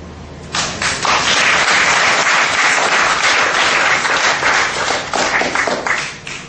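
An audience applauds loudly and steadily after an Italian book reading, a dense close wash of clapping hands that holds for several seconds before thinning out at the end.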